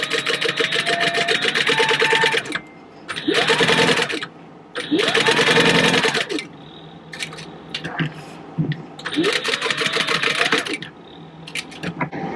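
A sewing machine top-stitching beside a zipper on a purse, in several bursts of rapid mechanical chatter, pausing in between, with a voice talking over parts of it.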